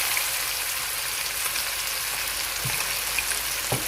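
Fish frying in oil, hotel-style Kerala fish fry, gives an even, close sizzling hiss with a couple of brief louder pops near the end, and no voices.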